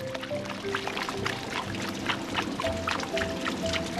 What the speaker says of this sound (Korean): 바닷물과 민물을 바꿔가며 헹구기를 대여섯 번